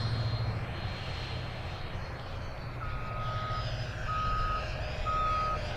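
A Banana Hobby Viper Jet 75mm 6s RC model jet flies at full throttle over Tangerine Field in Apopka, Florida. Its steady roaring whine runs throughout, with a few repeated electronic beeps in the background.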